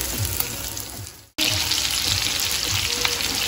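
Meatballs browning in a pan after a splash of water, giving a loud, steady sizzle that drops out briefly partway through and then returns at full strength as they are tossed.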